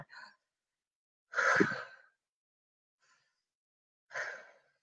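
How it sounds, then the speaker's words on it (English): Three deep breaths drawn and released at an even, unhurried pace, each a soft, airy rush close to the ear with silence between them; no talking. "I want you to take 3 deep breaths."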